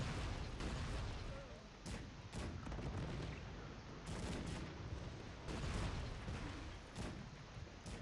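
Musket volleys and artillery fire in the Cossacks 3 strategy game, a dense ongoing rumble of overlapping shots and booms with louder bursts every second or two.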